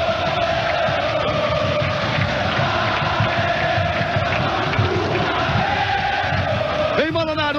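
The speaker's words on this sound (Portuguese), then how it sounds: "2-0 o Vasco faz a festa, a torcida em São Januário" A football crowd roars without a break at São Januário stadium, celebrating Vasco da Gama's second goal in the 1998 Copa Libertadores final against Barcelona of Ecuador. The cheering is dense and loud, with a shrill whistle or whoop near the end.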